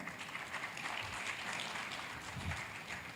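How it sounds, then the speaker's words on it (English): A conference audience gives a round of soft, continuous applause. The clapping is steady and fairly distant across the whole moment. "so round of applause to him"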